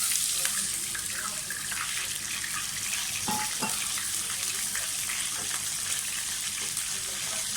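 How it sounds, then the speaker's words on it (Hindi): Water pours steadily into a cooking pan of cumin rice, a continuous rushing gush with a faint sizzle, close and fairly loud. "थोड़ा सा पानी डालें।"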